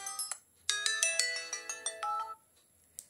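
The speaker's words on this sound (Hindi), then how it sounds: "यह सारे आपके डाउन किए हुए डिफॉल्ट रिंगटोन है," Default ringtone on a Tecno Spark 9 phone: a bright, tinkling electronic melody of quick bell-like notes played at moderate volume, ending after about two seconds, then one last short chime.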